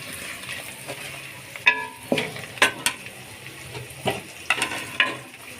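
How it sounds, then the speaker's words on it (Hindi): Whole spices sizzling in hot oil in a pot for chana daal, with a spoon stirring and scraping in several short bursts over a steady fry crackle, close and fairly quiet. "मसालों को 1-2 मिनट भून के"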